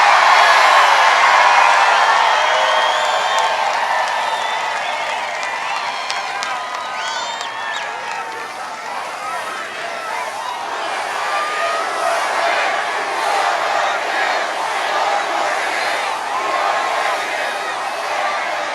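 A big political rally crowd for Donald Trump in Freeland, Michigan fills the air with continuous cheering, scattered whoops and light clapping, a dense roar that eases slightly midway and then builds again.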